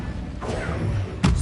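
Incendio fire spell cast in Hogwarts Legacy, a short whooshing thump that bursts out near the end over a low, steady game ambience.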